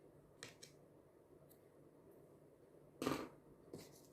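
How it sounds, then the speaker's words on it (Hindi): Scissors snip knitting yarn while baby booties are being knitted. Two or three soft, crisp clicks and snips stand out against a very quiet background, with the clearest cut near the end. "अब इस धागे को हम काट देंगे।"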